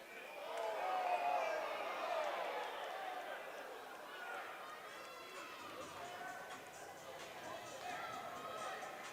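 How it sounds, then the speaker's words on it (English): Arena crowd at a Big 12 college wrestling match reacting to an official's stoppage, a sustained murmur and scattered shouts in the background under a commentator talking. "Crowd a little bit upset by that stoppage by the official."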